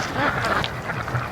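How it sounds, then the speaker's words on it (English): Free-range ducks hidden behind bulrushes make soft, chattering mating calls close by, a run of short nasal quacks and snickers over a murmuring outdoor background. "We got some ducks behind the bulrushes here, doing some mating. You can hear them."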